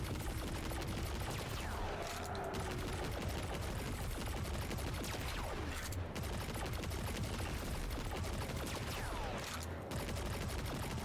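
Sustained fusillade of rapid video game gunfire as one full magazine empties, a dense continuous rattle of shots running loud throughout with only brief dips, no voices over it.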